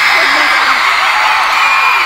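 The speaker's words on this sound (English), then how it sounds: "I heard you guys screaming." Dense, loud roar of a concert crowd at a show, screaming and cheering steadily throughout, with voices rising out of the din.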